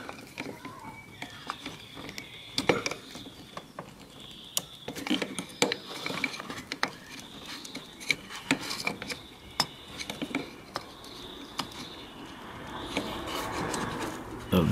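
A camshaft position sensor on the passenger-side bank 1 of a 2003 Infiniti G35 is pried off its wiring harness, giving close, intermittent plastic clicks, scrapes and rasping rubs at an uneven rhythm.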